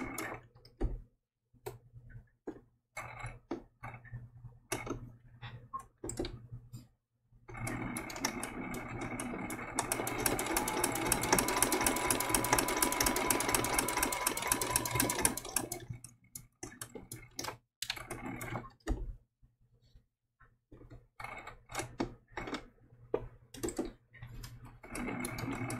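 A sewing machine stitches down an appliqué circle for a baby giraffe quilt, running in a steady whirring burst for several seconds mid-clip, framed by scattered ticks and clicks before and after.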